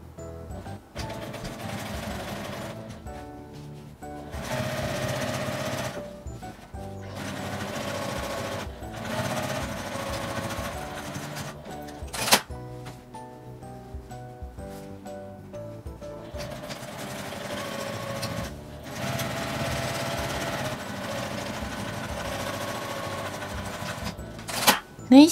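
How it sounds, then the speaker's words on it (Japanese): Sewing machine stitching the side seams of a sturdy canvas tote bag, running in repeated loud bursts broken by short pauses, with occasional sharp clunks between runs. "両端を1センチの縫い代で縫います。"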